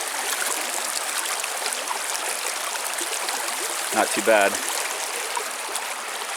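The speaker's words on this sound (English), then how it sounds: "I'll show you guys the stream" A stream flows at a campsite on the Superior Hiking Trail, a continuous broadband rush of water close by, with a person speaking briefly over it.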